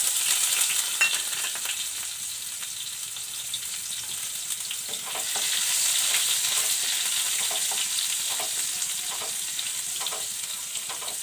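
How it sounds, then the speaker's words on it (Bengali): Chopped garlic fries in oil with cumin seeds and dried red chillies, a steady close sizzle with occasional stirring scrapes, growing a little louder midway. "রসুনটা একটু ভাজা ভাজা করে দেখাচ্ছি তোমাদের"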